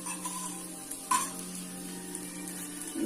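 Vegetables for a vegetable dosa frying gently in oil over a low flame make a faint, soft sizzle over a low steady hum, with one small clink partway through and no talking.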